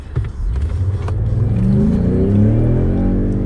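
Ford Raptor F150 pickup running on petrol accelerates hard, a loud, close engine note climbing steadily in pitch through the gears for several seconds, with no talk.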